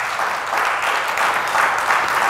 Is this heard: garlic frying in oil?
no